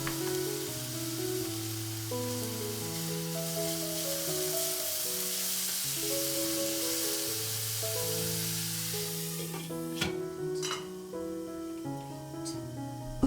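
Onion fries in plenty of oil in an open kadai over a high flame, giving a steady, bright sizzle throughout, with a few sharp spatters and stirring clicks near the end while soft background music plays beneath.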